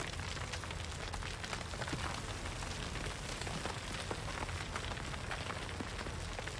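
Road being moved and leveled in the Workers & Resources: Soviet Republic video game, a dense continuous patter like gravel rain, with crackling ticks scattered throughout at a steady level.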